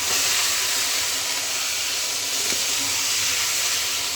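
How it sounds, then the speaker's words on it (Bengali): Eggplant frying in a pan with nigella seeds and oil gives a steady, loud, continuous sizzling hiss that holds from start to finish, with nothing speaking over it. "এই বেগুনটাকে এইভাবে একটু ভাজবো।"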